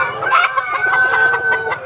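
Layer hens cluck and cackle steadily at close range in a continuous overlapping run of calls, with no talking.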